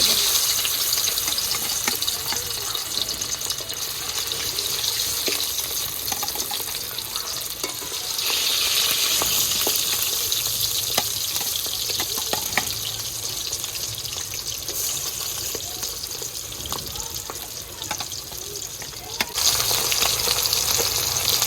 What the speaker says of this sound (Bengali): তেল গরম হয়ে গিয়েছে এবারে একে একে মাছগুলো জাস্ট এপিট ওপিট করে একটু হালকা একটু ভেজে